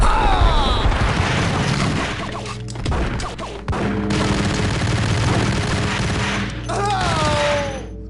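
Enemy gunfire in the game Max Payne, bursts of shots and heavy thuds with a brief lull, mixed with game sound effects and no talk.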